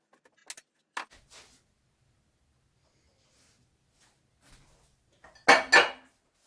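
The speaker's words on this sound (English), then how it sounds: "I love that little sound of the sped up bench scraper on the Formica." Quick scraping and clinking of a metal bench scraper on a Formica countertop, a few short bursts with a louder final scrape, sped up and sparse.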